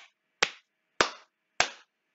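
Three sharp, deliberate claps spaced evenly apart, crisp and close with quiet gaps between.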